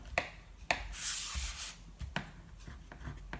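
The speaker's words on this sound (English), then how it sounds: "I'm just going to poke in the corners with the end of my bone folder" A bone folder burnishes and pokes into the corners of paper for a mini album, a faint close scrape followed by several soft sharp taps, quiet and alone.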